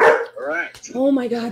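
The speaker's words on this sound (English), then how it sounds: "I apologize for my dog." An excited pet dog barks and yips in a home setting, a few quick sharp barks close by, mixed in with a person talking over them.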